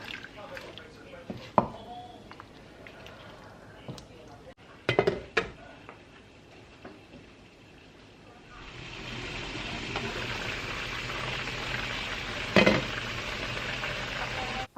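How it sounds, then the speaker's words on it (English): Hot water from a kettle pours into a pot of cooking chicken, a steady rushing pour that fills the second half after a few earlier clinks of pots and utensils in the kitchen. "we're going to add some hot water that I have in my kettle, and we're going to allow that to continue cooking"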